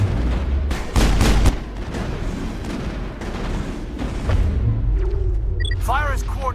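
Heavy gunfire and booming explosions from a Mass Effect battle against Geth turrets, loud and near, with strong blasts early on, as a voice speaks over the fighting.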